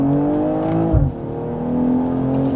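A BMW 440i Gran Coupe with a Steptronic automatic accelerates hard, its engine droning close by. A quick gear shift drops the pitch before it climbs again, and no one speaks.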